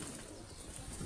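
Missa pigeons coo softly in a loft, a faint, low, continuous murmur of birds with no clear individual calls standing out.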